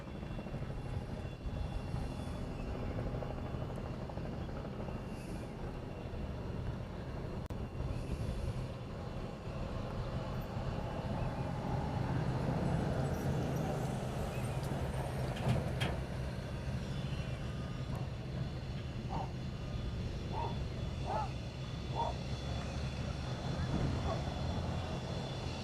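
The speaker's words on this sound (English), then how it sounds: "we have a baby tri-jet" A small tri-jet airliner at Honolulu airport produces a steady, broad engine roar that holds for the whole stretch, heard at a distance with wind and background rumble and no sharp peaks.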